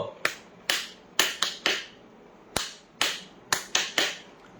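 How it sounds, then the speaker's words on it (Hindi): About a dozen sharp, close hand claps from a single clapper keeping time for a devotional Krishna and Ram chant, falling in uneven clusters of two and three with short silences between. "ताली बजानी है, ऐशो क्लैपिंग कहा गया इसको।"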